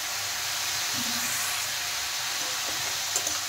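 Green chillies and vegetables sizzle and hiss steadily while frying in a pan, a continuous bright crackle that stays even throughout with a few faint clicks near the end.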